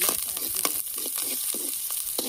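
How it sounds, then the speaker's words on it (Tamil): Onions sautéing lightly in oil for a vendakkai (okra) poriyal, a soft continuous sizzle close by, broken by regular light scrapes and taps of a spatula stirring the pan. "வெங்காயம் லைட்டாக வதங்கட்டும்"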